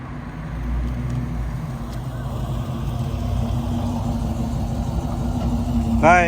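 A 1969 Chevrolet Camaro RS/SS convertible idles after a cold start, a steady low rumble held close throughout, with brief voices and a chirp near the end.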